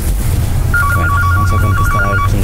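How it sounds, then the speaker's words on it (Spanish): A telephone ringtone chirps in a repeating electronic pattern, loud and close, inside an abandoned warehouse over a steady low hum. "me sale pitando el timbre del teléfono ahorita y me hizo espantar"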